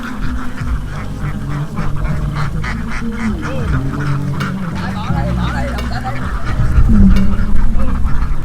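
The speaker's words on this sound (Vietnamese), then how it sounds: "Rất nhiều vịt luôn các bạn thấy không?" A large flock of ducks being herded along a river in flood season, with dense, continuous quacking and honking that swells louder toward the end, and voices underneath.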